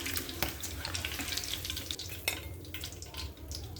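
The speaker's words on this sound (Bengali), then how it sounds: "সব কয়টি ডিম তেলে ভেজে নেব।" Eggs frying in oil in a pan, a steady close sizzle broken by repeated scraping and stirring strokes of a spatula against the pan, with no talking.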